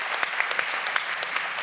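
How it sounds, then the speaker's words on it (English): Audience applause at a climate change and education session, a steady wash of many hands clapping with a few sharper claps standing out, fairly close and continuous for the whole stretch. "A round of applause once again for Farah"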